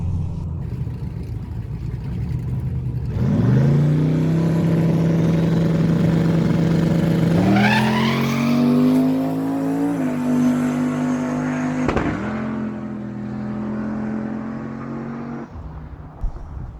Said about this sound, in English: She hit the rev limiter about 3/4 of the way down doing the burnout